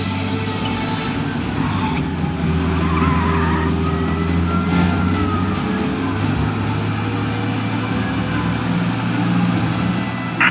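Car speeding in Mafia: Definitive Edition with an engine roaring steadily and tires skidding and squealing intermittently, loud and continuous without speech.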